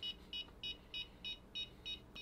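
An electromagnetic radiation detector's alarm buzzes in seven short, evenly spaced electronic bursts, each about a fifth of a second long, fairly quiet and close by with no talking.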